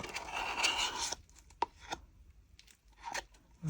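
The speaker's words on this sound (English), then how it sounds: "Let me just scrape out this pot, and then that's all that mixture used up." Leftover marble-effect resin mixture scraped from a mixing pot: a dense rasping scrape for about a second, then a few short scratchy strokes and taps with gaps between.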